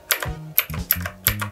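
Four crisp, separate clicks sound close by as keys are pressed on the retro keyboard of a Divoom Ditoo Plus Bluetooth speaker, evenly spaced and loud, with no talk.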